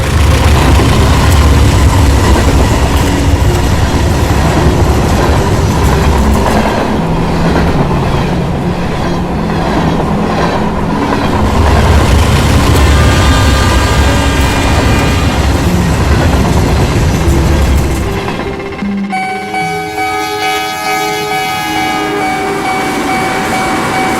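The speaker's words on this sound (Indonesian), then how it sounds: "naiki lokomotif untuk membawa logistik dan tangki berisi cairan kimia" A locomotive hauling logistics wagons and chemical tank cars rumbles loudly past with a dense, continuous roar and rhythmic rail clatter, then gives way near the end to quieter, lighter tones.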